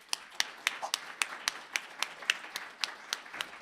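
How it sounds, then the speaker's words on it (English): Conference session audience applause at a programming conference in Pasadena, with sparse, fairly distinct claps in a loose rhythm, quiet and somewhat distant rather than a dense ovation. "let us all give Dan Ingalls a cheer"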